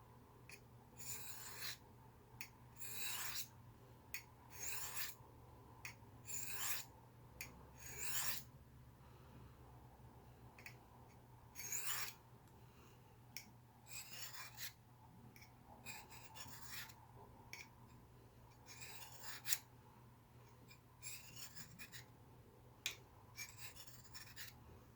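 Knife blade stroked across the fine side of a Smith's diamond sharpening stone, repeated short gritty rasping scrapes in irregular bursts, quiet and close, with brief pauses between passes.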